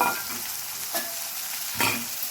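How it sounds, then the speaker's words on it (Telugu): Chopped green beans stirred into hot oil with turmeric in a pan, giving a steady close sizzle broken by a few louder scraping stirs. "దీంట్లో మనం ముందుగా తరిగి పెట్టుకున్న బీన్స్ వేసేసుకోండి"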